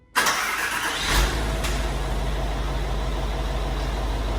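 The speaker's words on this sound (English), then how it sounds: "we can also perform the remote engine start" A 2008 Range Rover engine starts remotely with a sudden loud catch, then settles into a steady, close idle rumble that continues without talk.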